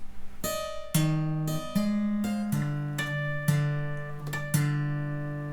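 An electric guitar plays a legato phrase mixing tapped notes and ringing harmonics, each harmonic struck just before a low bass note. About eight distinct attacks sustain over one another, solo and clean.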